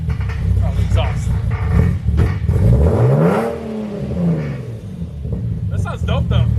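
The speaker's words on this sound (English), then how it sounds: "So we put an exhaust on it. Now we're see what it sounds like." A car engine revs up and falls back with a deep, throaty exhaust roar, close by, while people talk over it.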